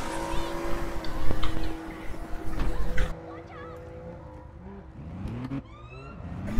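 A vehicle driving in the game APB Reloaded, with engine tones rising and falling, loudest early and then dropping back under game sounds, while a voice talks throughout.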